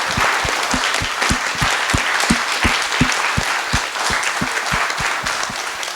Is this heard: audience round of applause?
yes